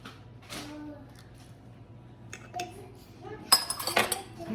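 Banana bread batter with vanilla extract is stirred in a bowl, giving soft scraping and a few light metallic clinks of a utensil against the dish, faint and close.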